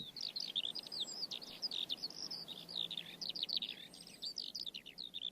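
Continuous high-pitched bird song, a long run of rapid chirps and trills with barely a pause, fairly close, over a soft background hiss.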